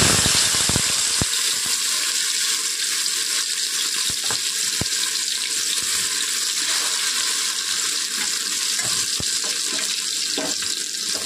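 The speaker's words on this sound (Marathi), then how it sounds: "आता तेल छान तापलेलं आहे, त्यामध्ये आपण वाटून घेतलेलं वाटण आहे ते ॲड करणार आहे" Ground masala paste sizzles in hot oil with a steady, loud hiss and spatter that continues unbroken, with scattered sharp pops along the way.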